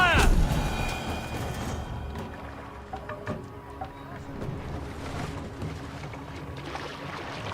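Sailing ship from Assassin's Creed Valhalla moving across water, with steady broadband rush of hull and waves plus wind, a loud burst at the start and game sounds and voices mixed underneath throughout.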